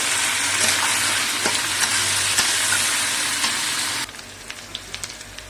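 Salt-washed taro pieces fry in a pan with ginger and garlic, a loud, dense close sizzle that runs steadily with scattered crackles, then drops abruptly to a quieter spitting with sparse pops near the end; no talking.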